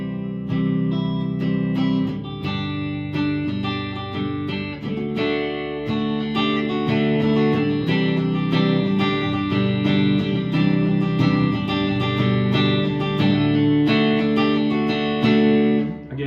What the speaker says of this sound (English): Nice classic Fender clean tone that you can't get anywhere else.